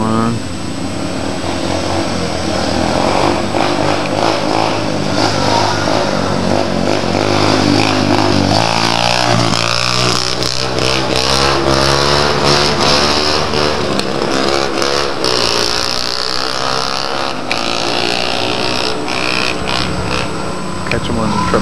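Yamaha TTR 125 dirt bike revving hard in third gear during wheelies and a flyby, a loud buzzing engine note rising and falling as it passes close, with voices audible at times.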